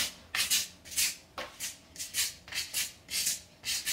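Burnt cement coating being spread by hand over wall tiles, a steady series of rhythmic scraping strokes about twice a second, close and clear with no talk.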